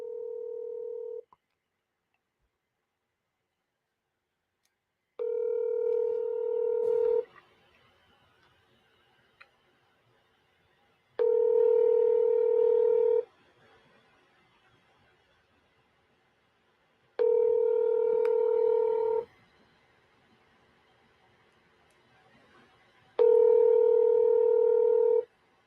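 A telephone call to a son rings out in four or five evenly spaced two-second tone bursts separated by silence, after a brief opening beep, with nothing else heard.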